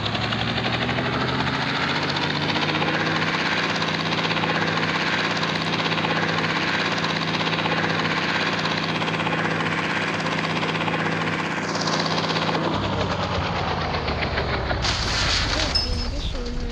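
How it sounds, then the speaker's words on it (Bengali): A helicopter passes overhead, its deep rotor drone loud and steady for about twelve seconds before cutting off, followed by scattered brighter noises. "হেলিকপ্টার এসছে"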